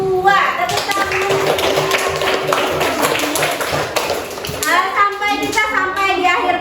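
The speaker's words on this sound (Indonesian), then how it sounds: "Tepuk tangan." A classroom of students claps for the best Canva designs, a quick lively burst of many hands slapping together up close, with children's voices chattering over and around it.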